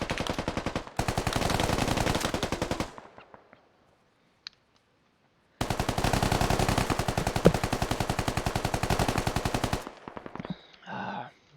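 Sustained automatic gunfire from the Squad military shooter game pours out in two long, loud, rapid bursts. A quiet pause with a single faint ping separates them, and a few softer shots and clicks follow.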